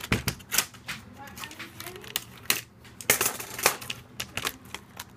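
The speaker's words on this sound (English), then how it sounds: "Going to want to get a flathead. Gonna open it up all the way. I'm gonna pry this up." A flathead screwdriver pries open the case of an HP Compaq NC4200 laptop, making a series of sharp plastic clicks, snaps and scrapes in irregular bursts at close range, with brief talk in between.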